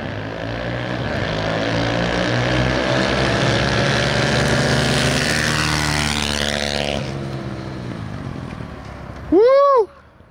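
Dirt bikes and a super scooter race off together, a loud sustained engine drone with rising and shifting harmonic whine that fades as they pull away, followed by a brief close revving burst near the end.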